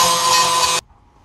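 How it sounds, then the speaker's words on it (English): A grinder smooths off a rough cut while parts are restored, giving a loud, bright, steady hiss of grinding for under a second before it cuts out abruptly, leaving faint low hum. "Now we'll take the grinder and kind of finish that off."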